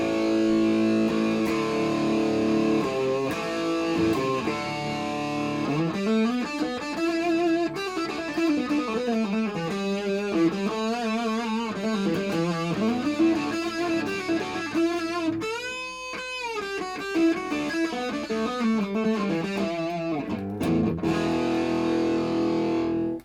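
Heavily distorted electric guitar, a Charvel-style guitar from China through an 80s-metal-voiced pickup, plays sustained, bending notes and chords, loud and continuous with no voices.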